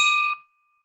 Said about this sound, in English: I'm ringing the bell for whatever that was